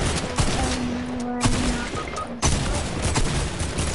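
Video game gunfire crackles in rapid bursts through the whole stretch, loud and busy, with a few sharper reports standing out.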